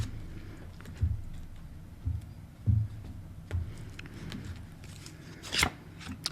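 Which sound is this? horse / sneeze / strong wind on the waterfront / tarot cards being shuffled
tarot cards being shuffled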